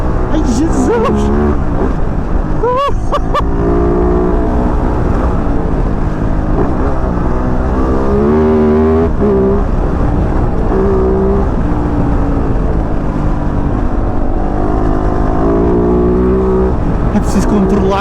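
A KOVE 450 Rally motorcycle engine revs and surges during a test ride, loud and close with pitch rising and falling under continuous talk.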